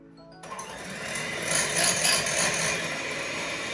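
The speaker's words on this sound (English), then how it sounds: "I'm gonna mix my egg yolks now, and I'm just gonna mix till they get pale yellow and it gets much thicker." Electric mixer beating egg yolks on high speed for a tres leches cake, a steady close whirring drone that starts abruptly and runs on without talk.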